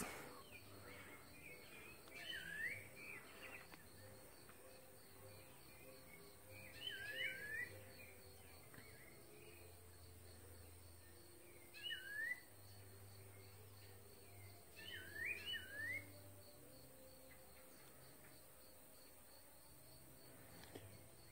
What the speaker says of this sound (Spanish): solamente se oyen cantar los grillos,